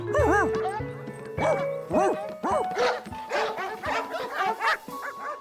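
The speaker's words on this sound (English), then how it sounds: "The whole place was filled with strange dogs." A crowd of cartoon dogs barks and yips over and over in quick, overlapping, high-pitched bursts, loud and close, with musical tones running underneath.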